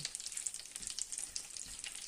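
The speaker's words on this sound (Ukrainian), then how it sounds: "Одну хвилинку підсмажуємо." Butter sizzles and crackles steadily in a hot pan, a dense close-up frying hiss with fine popping throughout and no talking.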